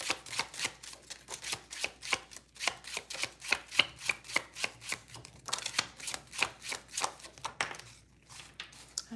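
Tarot cards being shuffled by hand, a rapid, regular run of crisp riffling slaps up close, pausing briefly near the end.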